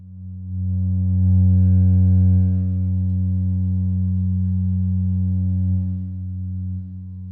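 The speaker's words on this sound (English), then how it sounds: "I'm going to keep it at its sine wave setting, which is not quite a sine wave" A Serge Paperface oscillator's wave shape output, set to its near-sine position, holds a steady, loud, pure-sounding low tone with faint upper harmonics, swelling slightly early on and dipping in level near the end.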